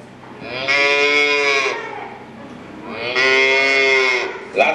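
Cows moo twice, two long, loud, harmonic calls about a second apart, close by and with no talk over them.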